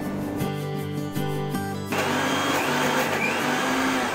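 A mixer grinder jar whirs loud and steady as it grinds rice into fine dosa batter with poha and coconut. It pulses in short bursts at first, then runs in one continuous grind, close and with no talk.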